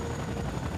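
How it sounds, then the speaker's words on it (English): A helicopter in the video game C&C Renegade gives off a steady, low, rumbling rotor drone. The drone is continuous and fills the whole moment. "Another chopper!"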